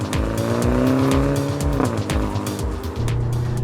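A BMW M135 all-wheel-drive hot hatch accelerates hard in second gear, its engine note climbing steadily with a dense, raspy exhaust tone before a shift-like dip and a settling drone near the end, no talk.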